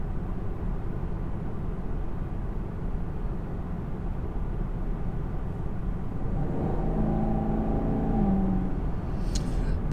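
A 2019 Camaro SS with its 6.2-liter engine drives along, giving a steady low rumble from inside the cabin that swells slightly as it accelerates, with road noise throughout.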